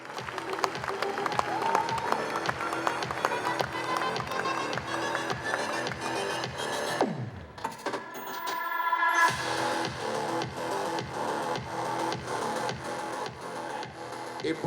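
Sustained audience applause at the 2023 Cameroonian Ballon d'Or ceremony, dense continuous clapping from a large crowd that dips briefly midway, then swells back to full strength with some background voices.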